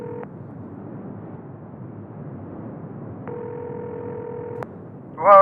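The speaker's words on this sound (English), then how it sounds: "Come on, Jake, pick up the phone." A ringback tone sounds on a telephone line, with one brief burst and then a longer steady ring over faint line hiss, followed by a sudden louder click at the end.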